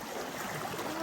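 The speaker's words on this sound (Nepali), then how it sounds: "नदी" Steady broadband rush and trickle of a flowing river beside a local swimming spot, water sounding continuous and fairly close with no talk over it.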